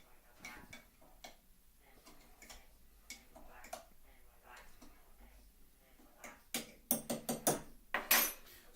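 A utensil clinks and taps against a bowl while a yeast mixture for pizza dough is stirred, soft irregular ticks building to a quick run of louder knocks at the end.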